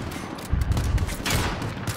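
Rapid bursts of gunfire from a Modern Warfare campaign firefight, loud and close, with dense overlapping shots that swell midway and keep going to the end.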